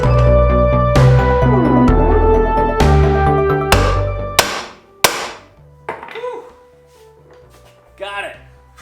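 Loud metallic hammer blows from a 4-pound sledgehammer driving out the lower control arm on a 2001 BMW 325i E46, five or six ringing strikes about a second apart, close up, followed by a few lighter knocks and clanks.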